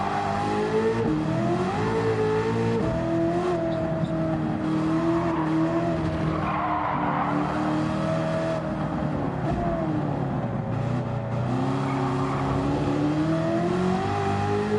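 A race car engine in the Gran Turismo video game runs loud and steady throughout, rising and falling in pitch as it revs and shifts, with no talking over it.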